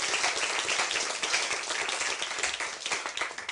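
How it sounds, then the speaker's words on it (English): Audience applause at a debate on the historicity of Jesus, a continuous crowd clapping throughout, fairly distant and even, with no speech over it. "A round of applause for the question and answer"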